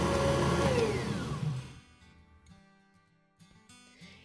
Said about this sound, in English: I'm going to go ahead and just turn the mixer on and let it go back down